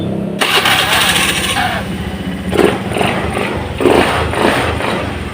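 A Honda Beat FI motorcycle, recently serviced and still sputtering, starts up and settles into a steady, close idle with a rough, buzzing mechanical rhythm and slight surges.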